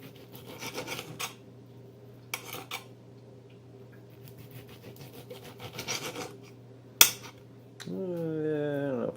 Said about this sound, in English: So I want to cube it, so I'm not going to be too picky about how I cut it.